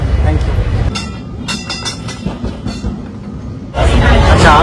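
A Kolkata tram runs along its rails with a close, rumbling roll and rhythmic metallic clatter that grows louder near the end, with voices in the background.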